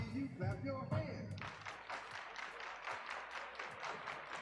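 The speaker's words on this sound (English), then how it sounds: "Let me hear you clap your hands" A crowd claps steadily in rhythm, sharp repeated hand claps over music after a brief bit of singing at the start.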